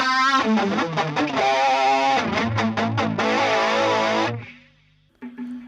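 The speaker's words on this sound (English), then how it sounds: "what I've got here now is some overdrive and compressor." Electric guitar played through a Boss BE-5 multi-effects pedal with overdrive and compressor engaged, loud distorted strummed chords ringing out, then fading to a quiet hiss before a brief final note.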